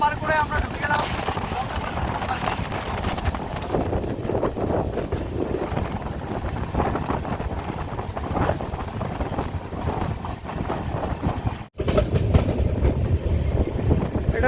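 A train runs steadily through forest in Jaldapara National Park, between Kamakhya Junction and Siliguri Junction, with continuous loud rumbling and rattling plus wind noise, and a brief dip near the end.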